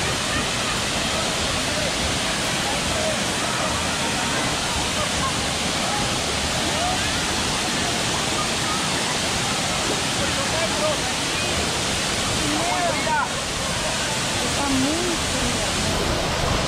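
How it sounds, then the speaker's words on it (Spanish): The Tamasopo waterfalls rush with a loud, broad, unbroken roar close by that fills the whole stretch, and faint voices and brief shouts come through beneath the water. "Llegamos a las cascadas de Tamasopo."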